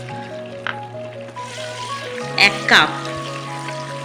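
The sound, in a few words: green peas frying in mustard oil with cumin in a kadai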